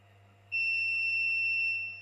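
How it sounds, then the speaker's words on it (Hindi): After a quiet electrical hum, a vacuum pump gauge alarm starts a shrill, steady electronic beep tone on reaching 15 that holds unbroken to the end. "ये देखो ये आवाज़ बीप कर दी है इसने, जैसे ही 15 पे आया है इसने आवाज़ कर दी है।"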